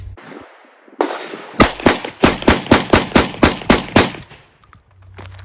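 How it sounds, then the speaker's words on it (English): An SDS Lynx 12 gauge shotgun fires at an outdoor range: a couple of opening blasts, then a rapid string of about ten evenly spaced loud booms, each with a short echoing tail, close by. "let's go to the next one, and it's gonna be the shotgun. All right, the SDS Lynx."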